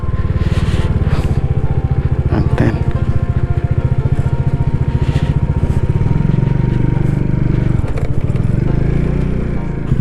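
A motorcycle engine runs steadily and loud throughout on a narrow hill road near Kurseong, with a brief voice partway through and the idle settling lower toward the end.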